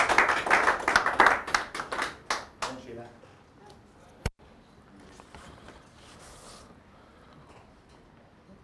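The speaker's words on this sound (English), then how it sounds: "Let's give her a round of applause." Clapping for an attendee at a youth skills and empowerment session ceremony, a burst of scattered hand claps from a small group over the first few seconds, then fading to a single sharp knock and quiet room murmur.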